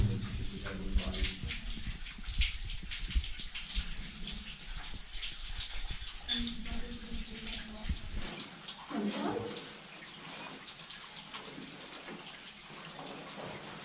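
A waterfall rushing and splashing inside Horne Lake Caves on Vancouver Island, echoing in the enclosed space, steady and moderately loud, with voices talking over it at times.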